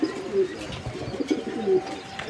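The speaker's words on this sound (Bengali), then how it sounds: "এখানে আরও এক জোড়া কবুতরের কালেকশন রয়েছে। এগুলো হচ্ছে রেসার কবুতর" Racer pigeons at a bird market give a few soft, low coos, short and close, over light background noise.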